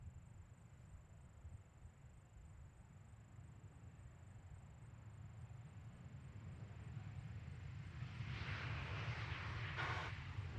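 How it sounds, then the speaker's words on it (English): American Airlines Airbus A321 departing Nashville International Airport, a distant low engine rumble that slowly swells louder as the jet spools up and rolls, heard alone without talk. "American 2244 headed to Dallas on an A321"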